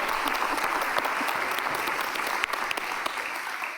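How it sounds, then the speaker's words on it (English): An audience at a talk applauding warmly, with dense, steady clapping and a few louder individual claps standing out, tapering slightly toward the end. "please give another very warm round of applause for Ez and Hans."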